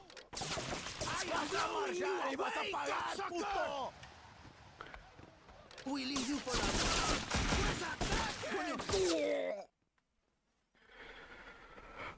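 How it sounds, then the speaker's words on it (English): Dense gunfire from the Scarface: The World Is Yours video game rattles in loud, sustained bursts, breaks off briefly, then returns before cutting to near silence, with voices and game sounds mixed throughout. "Oh, that's a lot of bullets."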